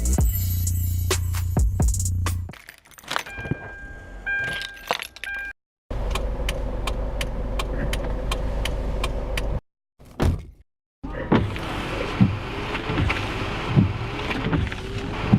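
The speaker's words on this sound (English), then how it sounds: "I'm gonna play back some sounds I got in the car earlier." Rattling, jangling sounds and engine rumble inside a moving vehicle, with clicks and bumps, broken by a couple of brief silent gaps.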